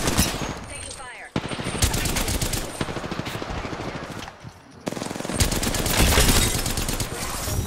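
Video-game gunfire rattles in long, rapid automatic bursts, loud and sustained, broken by two brief pauses.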